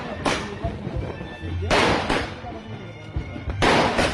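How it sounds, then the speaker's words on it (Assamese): Firecracker bombs go off in three sharp, booming blasts spaced about a second and a half apart, each with a short rumbling tail, while voices talk in between. "পুরা বোমা মারিছে।"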